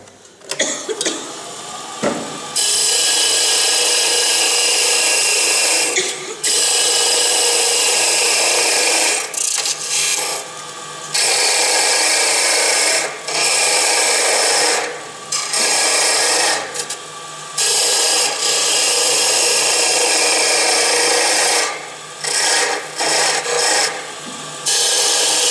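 A hand tool shaves excess wood from a carved head, producing continuous rasping and scraping strokes that sound close and loud, broken by several short pauses.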